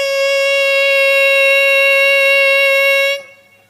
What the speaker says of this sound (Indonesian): biasanya terbunyi suara sirine